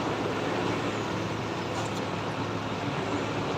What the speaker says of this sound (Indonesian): Truk ada bus lewat.